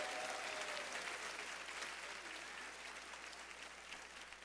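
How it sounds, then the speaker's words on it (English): Applause from a church congregation celebrating a birthday during a Sunday service, a soft, distant patter of many hands filling the room and fading slightly over a few seconds. "Mrs. Ratliff stepped out, but we want to applaud her in her celebration of a birthday on November the 2nd."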